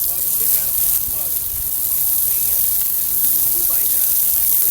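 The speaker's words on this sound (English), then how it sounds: "Now let me get the hose and rinse it so you can see it disappear." A garden hose sprays water to rinse cleaner off a boat hull, producing a steady hissing, splattering spray that holds even and fairly loud for several seconds.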